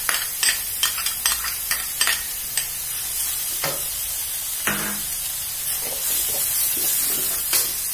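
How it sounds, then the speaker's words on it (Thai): Vegetables stir-frying in a pan for spaghetti sauce, with quick repeated spatula scrapes at first, then a steady close hiss and sizzle with occasional stirring knocks. "เราจะผัดจนรู้สึกว่าตัวผักของเรานิ่มให้เราใส่ซอสมะเขือเทศค่ะ"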